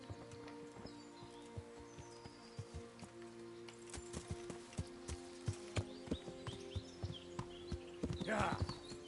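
In the Kingdom Come Deliverance video game, a horse's hooves clip-clop in an irregular rhythm that grows louder and denser, with a brief rustle near the end and a voice talking softly at times.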